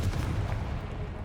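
A Confringo spell blast from the Hogwarts Legacy video game, heard as a short, dense, rumbling burst of booming noise lasting about a second.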